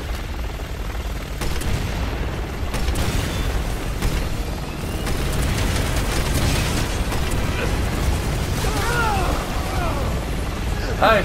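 Explosions in the video game Resident Evil 6, a series of booming blasts and bursts amid mechanical combat noise, with a person talking over the action.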